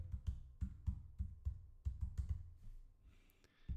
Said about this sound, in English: We're going to type cybersecurity here.